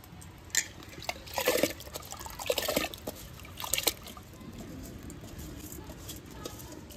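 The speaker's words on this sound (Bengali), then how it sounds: "এবার আমি চালটা দিয়ে দেবো" Washed rice tumbles into a pot of water, making faint wet patters and small splashes in a few short bursts, then a quieter trickling tail.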